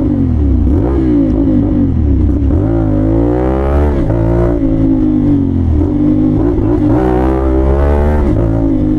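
A motorbike engine revs hard and pulls through clutchless gear shifts, its loud droning pitch climbing, dipping at each shift and rising again several times, close and continuous with no talking.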